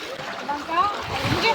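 Water splashes against a boat on the way to the Sri Bettada Ranganatha Swamy temple, a steady rushing slosh close by, with voices talking over it.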